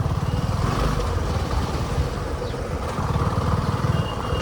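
A motorcycle engine rumbles steadily and loudly close by, a continuous throbbing drone that holds through without a clear rise or fade, with no talking.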